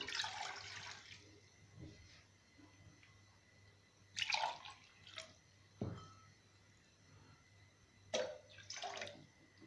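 Water poured into a pan to brew black coffee, heard as a few short splashing bursts spaced through otherwise quiet kitchen sound.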